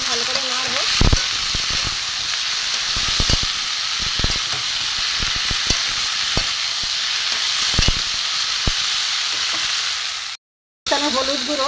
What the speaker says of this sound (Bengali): সেদ্ধ করা ডুমুরগুলো আমি দিয়ে দেবো। দিয়ে আমি একটু ভালো করে নাড়বো।